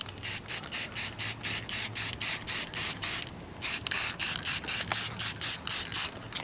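Blue spray paint hissing from an aerosol can onto a pinball stencil, about two dozen short even bursts in a steady rhythm, close and loud, with a brief gap midway.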